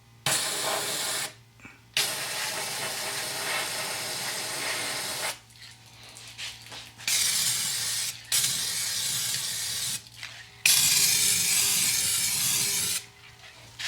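Aerosol can spraying coating onto the rust-repaired rear subframe of a 1973 Mercedes 450SL, in several long hissing bursts separated by short pauses, close and fairly loud.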